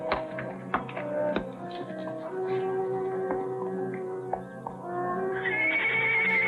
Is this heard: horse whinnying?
yes